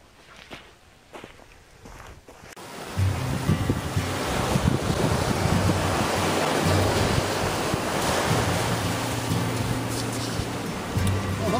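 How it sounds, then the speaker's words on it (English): Seaside in Nova Scotia on a spring morning, with steady surf and strong wind buffeting the microphone, a loud continuous roar after a quieter opening with footsteps. "I'm here by the sea."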